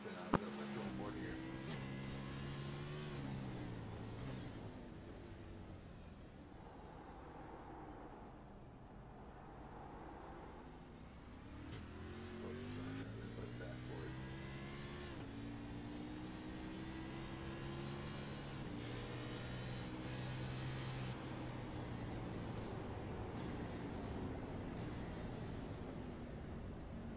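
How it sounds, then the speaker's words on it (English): Race car engines in the iRacing Xfinity Series at Sonoma rise and fall through gears, a continuous droning roar with shifting pitch sweeps, while commentators talk over it throughout. "Man, just listen to his car."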